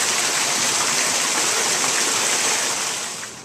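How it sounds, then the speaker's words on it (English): Water from the fountain of the dolphins at Villa Lante in Bagnaia, Italy, rushing down an upper-level stone channel as a loud, steady gushing wash that barely varies, fading slightly at the end. "Here is an upper level channel of water running down from the fountain of the dolphins up there."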